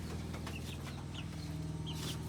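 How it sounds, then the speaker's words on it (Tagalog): Native chickens with eight chicks clucking and peeping nearby, short chirps scattered over a steady low farmyard hum. "Walo rin yan. Walong sisiw."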